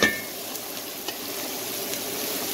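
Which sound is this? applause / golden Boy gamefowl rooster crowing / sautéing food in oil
sautéing food in oil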